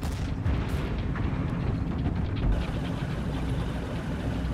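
Heavy enemy fire in Tom Clancy's EndWar during a hardcore assault battle rumbles as continuous, loud artillery-like booms and gunfire, with dense explosive blasts throughout and no talk.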